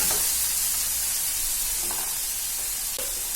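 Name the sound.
curry leaves and spice powders sizzling in frying pan for fish biryani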